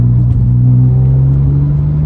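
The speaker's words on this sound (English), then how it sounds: "I love the exhaust note" A 2017 Porsche 911 Carrera engine drones with a deep, steady exhaust rumble, close and loud, holding a low note with a slight rise toward the end.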